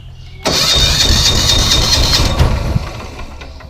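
A BOTH generator used to power outdoor sound systems starts up with a sudden loud catch, then settles into a steady close engine drone and idle with a brief surge partway through.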